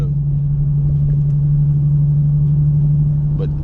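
An Infiniti G37 fitted with Vibrant resonators hums from inside the car while driving, a steady deep, droning exhaust note at cruising speed with no revving.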